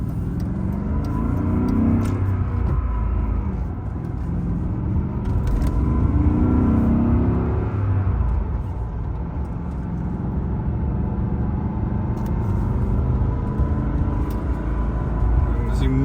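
A 2002 BMW Z8 sports car drives along with a steady mid-pitched engine drone and road noise, its pitch rising and falling gently as the revs change, while someone talks over it.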